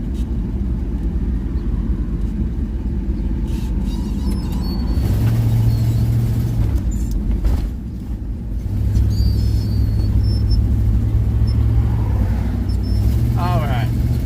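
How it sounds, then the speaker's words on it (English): Dense two-way road traffic heard from inside an RV, a steady loud engine and tire rumble filling the whole clip with low droning vehicle passes, a voice talking over it. "God, this is solid traffic."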